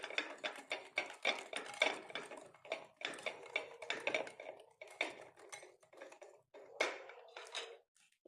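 Milk being mixed into a mixture with a spoon, the spoon clinking and scraping against the cup in quick, irregular strokes, close and fairly quiet, with no talking.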